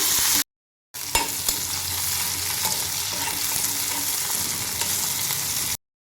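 Green chilies and raw tamarind fry in a pan with a dense, continuous sizzle and scattered stirring knocks, close and steady between short gaps of silence, with no voices.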